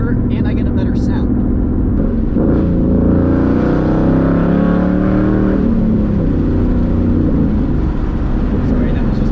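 A Coyote V8 Ford Mustang on an E85 tune with loud, continuous exhaust rumble and revving, with sharp pops and crackles early on and a voice talking over it.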